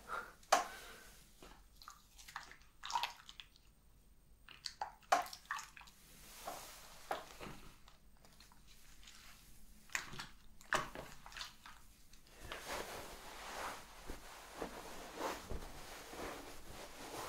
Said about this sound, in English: Let me just wash my hands a bit.